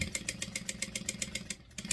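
A sewing machine stitches two 5-inch quilt squares placed right sides together along a quarter-inch seam. The stitching is a rapid, even mechanical pulse heard close up and alone, with a short pause near the end.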